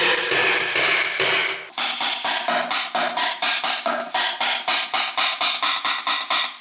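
A cordless DeWalt-battery-compatible nailer fires F30 nails in a rapid run, about a dozen sharp, evenly spaced clacks close up, after a brief burst of mechanical rattling.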